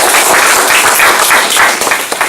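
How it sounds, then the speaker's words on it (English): Loud, dense audience applause at a Scrum meetup talk, continuous overlapping claps filling the room from start to finish. "Can we give one more round of applause for Karthik?"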